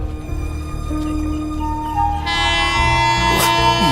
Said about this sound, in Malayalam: ട്രെയിൻ വിട്ടല്ലോ.